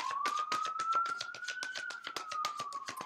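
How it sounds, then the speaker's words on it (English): A wailing siren rises and falls slowly while a fast pulsing chirp repeats over it, fairly loud and steady throughout. "Please excuse sirens in the background."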